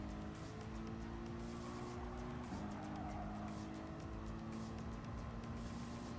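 Race car engines and tires in Gran Turismo Sport chasing a fourth-place car on a technical track: a sustained engine tone rises and dips once amid steady road and tire noise, fairly faint.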